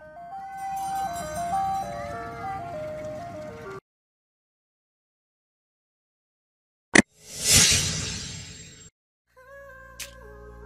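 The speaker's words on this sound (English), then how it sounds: "Food truck. A mobile kitchen often found in public spaces, festivals, and events, serving various types of food to customers." Ice cream truck style chime melody from a food truck, a mobile kitchen at public spaces and festivals, plays clearly for several seconds, then silence, followed by a brief clank and a loud rushing burst of noise.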